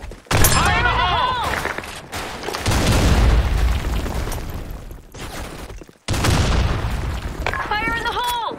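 Grenade blasts in a video game: a heavy boom rolls out and decays over a couple of seconds, followed after a short gap by a second loud burst, with a speaking voice and gunfire-like crackle underneath.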